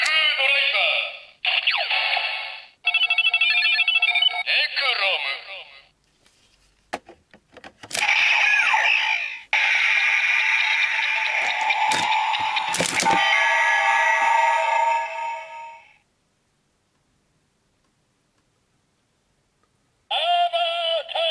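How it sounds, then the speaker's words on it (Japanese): A Kamen Rider Zi-O Ziku Driver toy loaded with a Necrom Ridewatch plays its electronic announcements and bright transformation music in several loud bursts, with a clack and short silent gaps between them and a sudden loud stretch at the end. "時空ドライバーで音声確認をしてみます"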